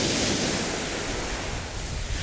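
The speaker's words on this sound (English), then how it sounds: "There's some big waves coming in now." Big waves roll in and break on a UK storm beach, a continuous loud wash of surf with wind noise, close and steady, with no voices.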